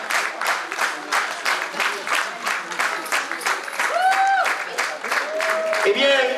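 An audience bursts into sustained applause after a theatrical performance, with dense rapid clapping throughout and a few whistles and cheers rising near the end.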